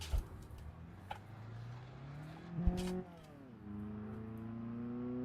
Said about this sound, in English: Sounds alright with no exhaust on it.